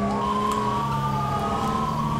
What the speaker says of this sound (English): Make way for the ambulance.